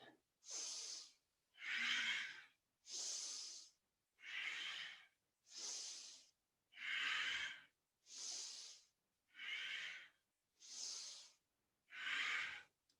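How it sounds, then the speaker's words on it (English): Deep, forceful nasal breaths during a Kundalini yoga class come in an even rhythm, about ten close hissing inhale and exhale strokes each about a second long, with no talking. "See if you can deepen the breath."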